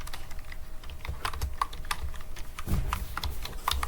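Close, rapid typing on a computer keyboard, a steady run of light key clicks with occasional heavier strokes, heard on its own without talk.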